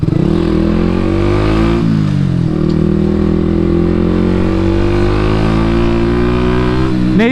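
A Yamaha MT 125 motorcycle with an Akrapovič exhaust revs loudly and close with a throaty, rumbling exhaust, pitch rising and falling through several blips of the throttle.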